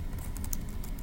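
Quick, light keystrokes on a computer keyboard, a short burst of close, soft clicking tapped out alone in a quiet room.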